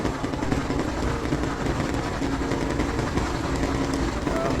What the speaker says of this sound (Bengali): নতুন একটি লঞ্চ এই মুহূর্তে ফতুল্লা ঘাটের কাছাকাছি দেখতে পাচ্ছেন, বেশ ভালো গতি নিয়ে যাচ্ছে হাকিমউদ্দিনের উদ্দেশ্যে